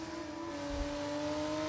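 A Formula 1 car engine in a Monaco racing video game holds a steady high-pitched whine, faint and continuous, with a low rumble rising briefly partway through and no voices.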